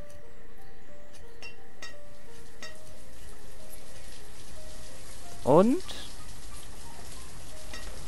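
Soft steady rain patters in the building game Banished, a constant gentle hiss with faint chimes and a brief clinking flourish midway, while someone briefly speaks.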